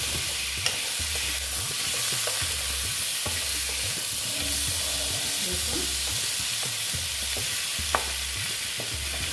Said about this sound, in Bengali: এই যে কুমড়ো আর আলু দিয়ে দিলাম দিয়ে এটাকে আমি একটু ভালো মতন কষিয়ে নেব